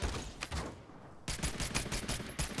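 Rapid bursts of gunfire in the battle royale game Realm Royale, loud and dense volleys that briefly pause before resuming in a continuous barrage.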